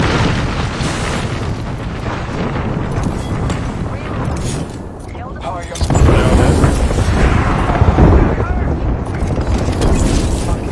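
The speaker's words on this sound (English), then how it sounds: "Throwing thermite grenades." A thermite grenade burns during an Apex Legends match, a loud, dense roar of fiery crackling and booms that swells louder halfway through, with voices talking over it.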